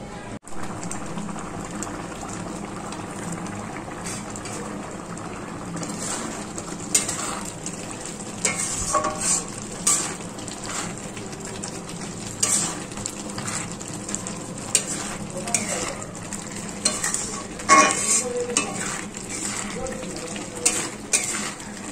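Jaggery syrup for puffed rice laddus cooks in a pan while a spoon scrapes and stirs, with steady sizzling and repeated metallic scraping clicks across the whole stretch.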